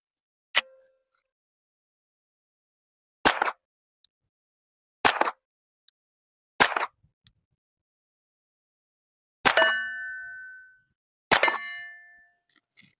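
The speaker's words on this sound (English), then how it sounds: "I'm going to do 3 into the berm and then 2 on a steel plate" Six sharp, muffled suppressed 115-grain gunshots from a YHM R9 suppressor are spaced a second or two apart, the first into a berm. The last two are followed by a bright metallic ring as rounds strike a steel plate.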